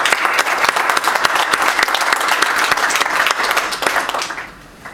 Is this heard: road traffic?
no